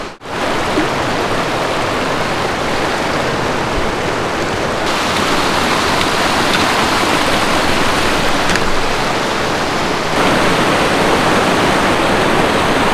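A stream running along a hiking trail, loud, close and continuous rushing water that stays steady throughout, shifting slightly in tone partway.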